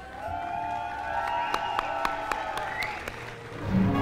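An awards-ceremony audience applauds for Khurram Kaleem, a steady wash of clapping at moderate distance beneath tonal background sound and a few sharp hits.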